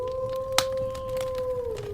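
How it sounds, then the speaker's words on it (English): A wolf howls far off in a long, steady, tonal wail that dips slightly near the end, with one brief sharp noise partway through. "That is the wolf howling in the distance"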